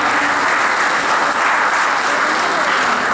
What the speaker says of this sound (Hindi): नीचे से तालियां बज रही हैं